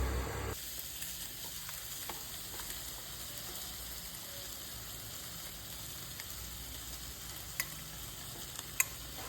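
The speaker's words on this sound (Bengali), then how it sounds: "কুমড়োগুলো কড়াইতে দিয়ে অল্প লবণ দিয়ে কুমড়োগুলো ভাজা ভাজা করে নেবো।" Pumpkin pieces fry with a little salt in a wok, giving a faint, continuous hiss and sizzle with a few sparse clicks of stirring, and no voices.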